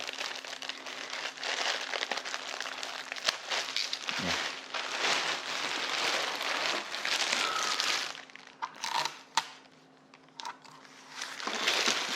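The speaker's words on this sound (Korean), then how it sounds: "비닐을 따겠습니다." Plastic wrap crinkles and tears as it is peeled off a new cooler box, close crackling and rustling in bursts with short pauses, no speech.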